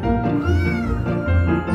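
American Curl kittens meow close and clear, loud drawn-out cries that follow one another with no gaps and no talking.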